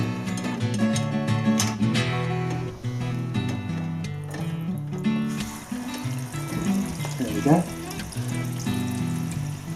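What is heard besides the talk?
water gushing into reverse osmosis filter system after reopening inlet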